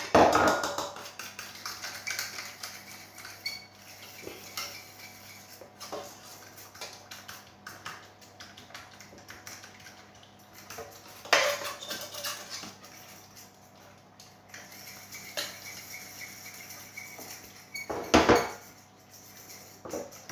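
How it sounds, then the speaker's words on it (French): Cornstarch being whisked into a cherry-tomato clafoutis batter in a bowl, a quick irregular clatter of whisk against the bowl with a few louder knocks, close and without talk. "On va mélanger ça vigoureusement. Il ne faut plus qu'il y ait de grumeaux."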